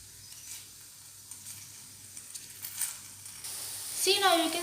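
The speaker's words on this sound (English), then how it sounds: "Now you have to add ghee and spread it on top of the chapati with the spatula." Ghee sizzles softly on a chapati in a pan while a spatula scrapes and spreads it in light intermittent strokes; a voice speaks briefly near the end.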